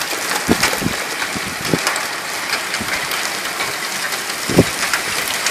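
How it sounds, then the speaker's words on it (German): Hail from a thunderstorm in Leipzig, about one centimetre across, pattering in a steady dense hiss with scattered sharper knocks of stones hitting nearby surfaces. "1 Zentimeter Hagel bei mir."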